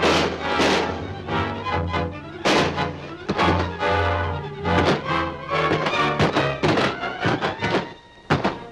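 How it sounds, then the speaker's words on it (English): Men firing guns in a staged scene: a steady run of heavy, booming shots with deep thuds, fairly loud and close, repeating in bursts with short gaps and no talking. "Have the men stop firing till they get in."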